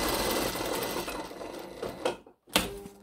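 A sewing machine stitches blouse straps in a fast, continuous whirring run. It stops briefly, then starts again with a loud, close clatter.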